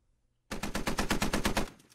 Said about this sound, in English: Cool Breeze still on that 50 cal looking south. He's firing a couple random shots.